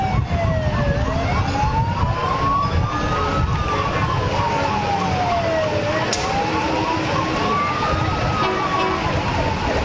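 A wailing emergency siren at an Independence Day parade in Braintree rises and falls in long slow sweeps, loud and steady throughout, with a dense rumble of crowd and street noise underneath.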